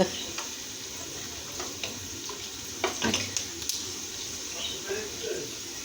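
Sesame balloon pişi dough fries in hot oil, giving a soft, steady sizzle with scattered pops and crackles, quiet and close, while people talk over it.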